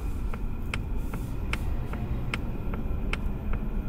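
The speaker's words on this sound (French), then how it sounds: "Un des points que j'aime vraiment pas, c'est le son du clignotant." Regular turn signal clicks tick inside a Polestar 2, about two per second, crisp and close over a low engine hum.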